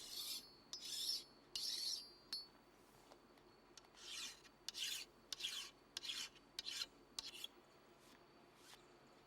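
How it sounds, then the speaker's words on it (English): A hand file takes burrs off the worn rails of a chainsaw bar in about a dozen short, crisp rasping strokes. Some strokes come in quick pairs, with brief pauses between, close up and fairly quiet, with no talk. "File off these burrs."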